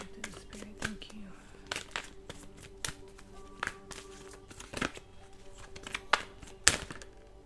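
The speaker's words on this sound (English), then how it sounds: "I had a good feeling while I was shuffling for this reading today" Tarot cards being shuffled, with irregular soft taps, flicks and papery slaps scattered over several seconds amid faint background noise.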